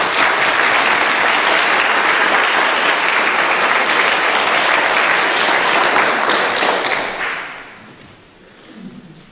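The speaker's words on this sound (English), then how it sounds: "Could we have a round of applause for these three terrific panelists?" Steady, dense audience applause for three panelists at a climate and faith symposium, loud and sustained for about seven seconds before tapering off quickly into quiet.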